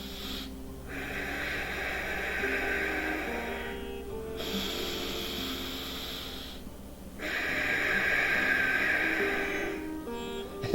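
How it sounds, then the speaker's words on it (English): Ujjayi cobra breathing drawn through the nose against a constricted throat gives a close, hissing rush of air in long alternating strokes, with three slow breath cycles heard alone. "you make a little noise by constricting your throat and allowing the air to rush over the glottis"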